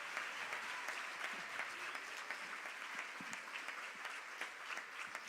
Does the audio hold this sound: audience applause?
yes